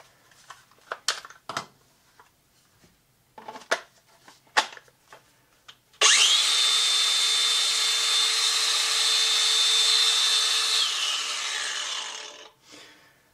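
After a few clicks and handling knocks, a Dewalt DCG409VSB cordless grinder fitted with its largest battery spins up to a loud, steady high-pitched whine, then is switched off and winds down over a couple of seconds.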